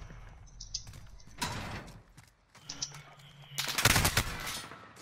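Video game gunfire in short bursts, a few rapid clattering volleys separated by gaps, moderately close, with mechanical clicks between them.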